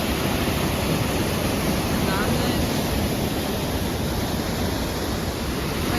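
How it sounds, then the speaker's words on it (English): A Lake District waterfall roars as a steady, dense rush of falling water, loud and close, unbroken for the whole stretch with no voices. "This is the other side that leads to the waterfall."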